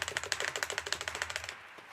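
Computer keyboard keys are hammered rapidly while playing the Summer Athletics video game during an indoor athletics jumping event. About twenty sharp, close clicks come in a fast, even burst, then stop abruptly, with no talk.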